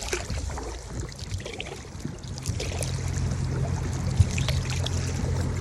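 A canoe paddled along the Erie Canal gives soft water swishes and trickles with the occasional light knock against the hull, quiet and close, over a faint low background rumble.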